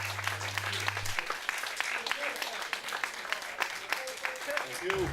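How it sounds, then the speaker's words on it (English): The Lotus Cup Europe community applauds at the podium during a trophy presentation after a race at Zolder, with a busy patter of many claps at moderate distance and a voice talking over it. "The applause of the Lotus Cup Europe community and the presentation of the trophies."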